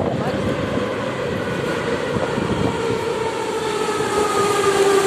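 A metro train at Palats Sportu station, where service had been halted after a person fell onto the tracks, rumbles steadily and grows slightly louder as it approaches, with a faint rising whine over the continuous noise.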